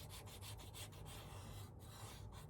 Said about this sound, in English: Go ahead and get these sanded up here.